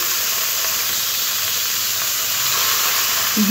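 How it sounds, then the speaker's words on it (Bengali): Chopped carrots and beans frying lightly in a pan, a steady, loud sizzling hiss that runs evenly throughout without a break. "একটু হালকা করে ভেজে নিতে হবে। আর একসাথে বিনসও দিয়ে দেবো গাজরের সাথে।"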